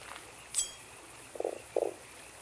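A toad croaking in the adventure video game Fran Bow, making two short, low, gurgling croaks after a brief bright chime, all faint against a quiet background.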